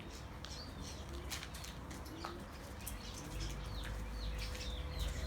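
Caged birds in a pet shop flap their wings and chirp with high, short calls, a lively indoor chorus over a steady low room hum.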